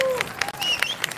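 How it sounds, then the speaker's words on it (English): Crowd applause at a justice rally for Asian women in Houston, a burst of scattered clapping mixed with cheers and whistling from the gathered people, loud and close before it stops abruptly. "So give yourself a big applause"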